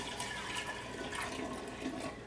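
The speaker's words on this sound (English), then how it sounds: "I'm just going to pour it into my gallon jar" Brewed tea for kombucha pours steadily into a gallon jar, a continuous splashing, gurgling rush of liquid that stays loud and even throughout, with no talking.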